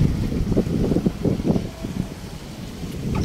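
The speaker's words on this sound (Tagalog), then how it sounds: "Lakas ng hangin." Strong wind buffets the microphone on a boat trip near Mayon volcano in Bicol, producing loud, gusty low rumbling with the wash of water beneath and no voices.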